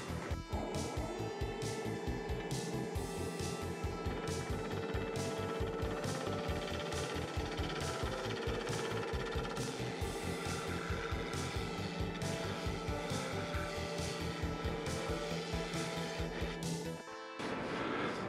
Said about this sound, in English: Now I'm just going to true this up with my half inch bowl gouge at 1000 RPM.